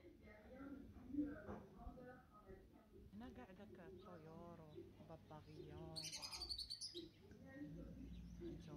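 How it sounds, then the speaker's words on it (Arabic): Colourful caged birds chirp and tweet in short bursts, with a brighter high call standing out near the end, all mixed under someone talking nearby. "هنا الطيور تبارك الله"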